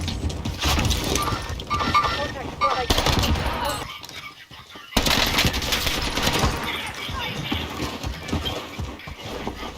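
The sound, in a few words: gunfire in a video game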